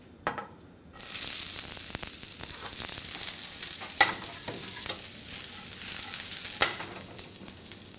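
Red cabbage hits hot olive oil in a pan and bursts into a loud, steady sizzle, broken by occasional scraping stirs and clacks of a utensil.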